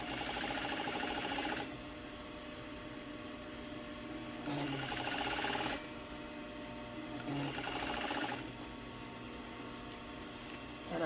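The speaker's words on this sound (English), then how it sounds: "I am sewing parallel with the seam" A sewing machine stitches parallel to a fabric seam in loud running bursts, about three stitching runs separated by brief quieter pauses, heard up close with no talking.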